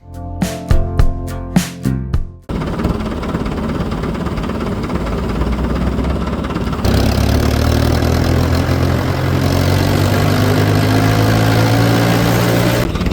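A few sharp knocks, then a loud, steady tractor engine idling with a constant low rumble that rises slightly and carries on.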